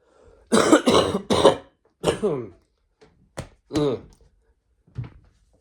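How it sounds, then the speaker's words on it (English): Harsh, repeated coughing bursts come close to the microphone, three quick coughs, then a pause and a few more scattered coughs and throat clears. "Cough is bad."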